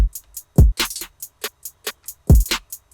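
A rapid electronic trap hi-hat roll, short bright ticks in a steady stream that step downward in pitch, punctuated by a couple of deeper thumping hits.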